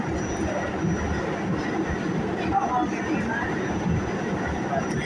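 A passenger train rolls along the rails with a steady low rumble and broadband wheel noise that continues throughout, moderately loud and close, as heard from inside a carriage.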